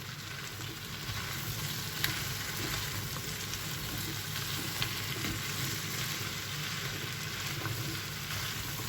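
Onions sautéing with salt in a pan for a Turkish squash dish, a steady low crackling sizzle, fairly quiet and close, with a couple of faint utensil taps and no speech.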